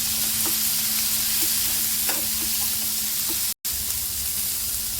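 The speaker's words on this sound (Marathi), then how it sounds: "या कांद्यामध्येच टोमॅटो भाजून घेऊया. भिजत घातलेले काजू भाजून घेऊया." Tomatoes and soaked cashews roasting with onions in a pan for hotel-style paneer masala, giving a loud, continuous frying sizzle close up with occasional light stirring taps and a brief dropout.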